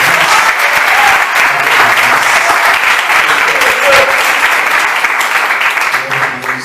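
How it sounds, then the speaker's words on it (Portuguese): Church congregation at an anniversary service applauding, loud sustained clapping that fills the room for several seconds and fades slightly near the end. "Você pode aplaudir o Senhor."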